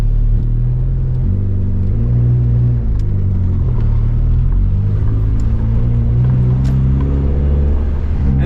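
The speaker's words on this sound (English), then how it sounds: "it still sounds like a turbo Honda" A turbocharged Honda Civic engine drones loudly and continuously while driving, a close, steady rumble with shifting engine tones and no talk over it.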